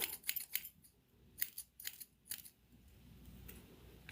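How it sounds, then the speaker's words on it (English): Thinning shears snip through synthetic wig hair during customizing, giving a quick run of crisp, close metallic cuts in small clusters, then a quieter pause, with no talking. "Let me get my thinning shears for this one."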